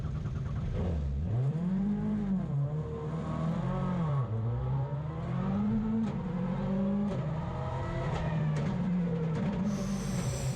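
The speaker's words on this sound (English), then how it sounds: "After a few attempts and a lovely bit of welly, he gets the car away and onto the stage." A Ford Focus rally car at a circuit rally stage at Knockhill revs hard after stalling on the line, then pulls away. The engine note rises and dips repeatedly, loud and close, with no talk over it.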